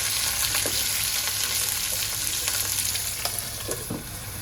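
Stuffed capsicum (bharli simla mirchi) sizzles steadily in a hot pan as it is turned and roasted on all sides, with scattered crisp pops and crackles, close up and with no other sound.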